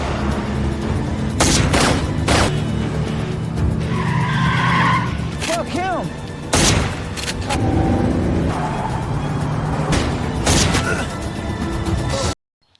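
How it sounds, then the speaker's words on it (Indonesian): Bursts of gunfire mixed with screeching tires and car engines during a chase shootout in an action movie, loud and dense, with sharp shots and skids repeating across the scene and a voice talking over parts of it. "Di saat kejar-kejaran pun terjadinya baku tembak hingga menewaskan Tweet."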